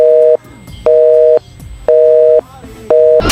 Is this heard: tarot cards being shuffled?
no